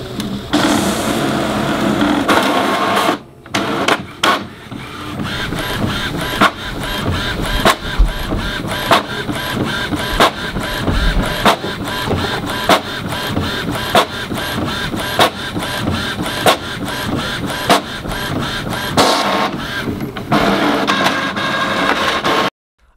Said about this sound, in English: I'm going to allow you to hear what it sounds like when it's printing